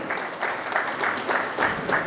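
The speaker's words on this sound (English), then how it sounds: "With a round of applause, let's welcome Manisha-ji." Conference audience at the International Galvanizing Conference applauding to welcome a speaker, a steady wash of many hands clapping with rhythmic swells, moderately loud and filling the hall, with no talk over it.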